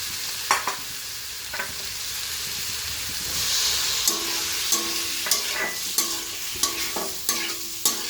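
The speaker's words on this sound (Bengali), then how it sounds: "এ পর্যায়ে আমি ভেজে রাখা আলু আর পটলটা দিয়ে দিব, দিয়ে আরেকটু কষিয়ে দেব।" Fried potato and pointed gourd being sautéed with spices in oil, a spatula knocking and scraping the pan in regular sharp strokes over a continuous close sizzle.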